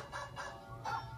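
A toy's dog bark plays three times, quick and tinny, the last bark louder than the first two, heard faintly at a distance.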